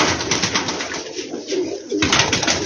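Black teddy pigeons cooing together, a close, continuous layered murmur of calls with a brief dip in the middle before the cooing swells again.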